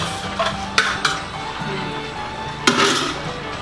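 Beef pochero with vegetables, Chinese pechay and onion leaves, stirred in a pot, with scattered metallic clanks of a utensil against the pot and a soft simmering background, no talk.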